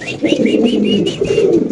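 Beauty pigeons at a pigeon farm give a close, loud run of throaty coos, several rolling calls in quick succession.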